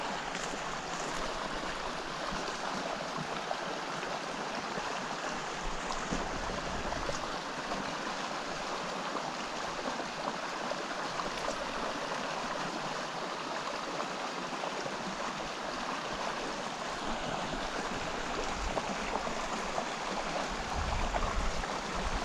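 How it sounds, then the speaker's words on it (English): A small, narrow creek where brook trout are fished gives off a steady, continuous rush of flowing water that stays close and even in level for the whole stretch, with no voices. "you see this little creek right here?"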